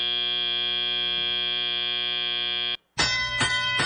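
Match buzzer at a FIRST FRC robotics competition in Channelview, Texas: a loud, steady electronic tone holds for nearly three seconds, cuts off abruptly, then a brief harsher buzz follows after a short gap.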